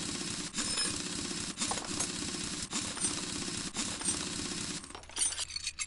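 Virtual bolts are unscrewed in the game Car Mechanic Simulator, producing rapid metallic ratcheting clicks in repeated bursts that stop abruptly near the end.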